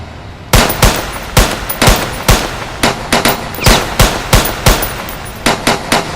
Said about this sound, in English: Damn, they're shooting at us!